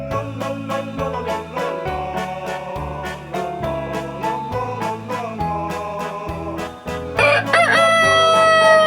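A rooster crows repeatedly and loudly at close range, its drawn-out calls running one after another and swelling into a final, brighter crow near the end.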